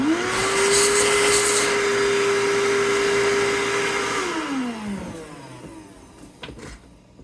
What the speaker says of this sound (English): Vacuum coming in, loud noises.